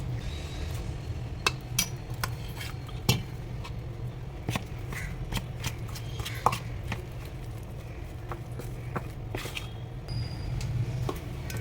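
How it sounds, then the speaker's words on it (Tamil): Store-bought rice flour dough for thenkuzhal is mixed by hand in a bowl, making scattered soft pats, squishes and light knocks at an uneven rhythm. There is no talking. "நான் கையில் கலக்கிறது சுலபமாக இருக்குன்னு கையில் எடுத்துட்டேன்"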